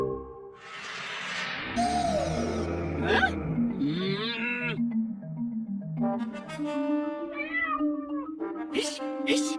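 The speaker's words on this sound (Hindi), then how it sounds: "अरे भाग कलूटी बिल्ली" A cat meows repeatedly in a Hindi animated moral story, its rising and falling cries running almost continuously over background music and cartoon effects.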